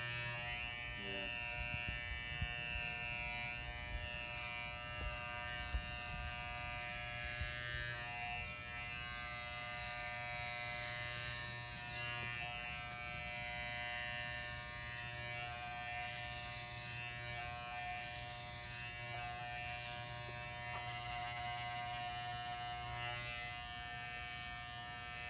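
Electric shaver buzzing steadily while shaving a head of hair, a close, continuous hum that holds for the whole stretch with no talk over it.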